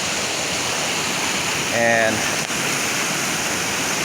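Creek water at Lytle Creek flows steadily in a broadband rush along a zigzagging channel, close and continuous, with a brief spoken word over it.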